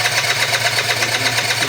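A rebuilt Yamaha BWS 50 scooter with a Stage6 engine, running up with a steady, fast, buzzing small two-stroke drone and close, even pulsing.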